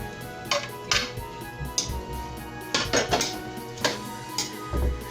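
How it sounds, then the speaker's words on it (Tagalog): Bok choy tossed in a pan over high heat with broccoli and cauliflower for chopsuey, giving repeated metallic clanks and scrapes of a utensil against the pan at an irregular rhythm, close and fairly loud. "Now mix it a little bit until the bok choy gets wilted"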